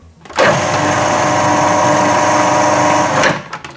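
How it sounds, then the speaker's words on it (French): A food processor whirs steadily, grinding a mix of almond, icing sugar and cocoa into a fine powder; the loud, continuous motor drone starts abruptly, runs about three seconds and cuts off. "On va maintenant mixer notre mélange amande, sucre glace, cacao au cutter pour avoir une poudre très fine"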